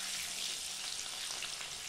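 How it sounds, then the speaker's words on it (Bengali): Boiled potatoes frying in oil for chicken biryani give a steady, even sizzle with a soft crackling hiss that holds at a constant level throughout, and no one speaks over it. "এইবার একটু একটু করে সব একটু ভাজা হবে। আলুগুলো ভাজা হলে তুলে নেব।"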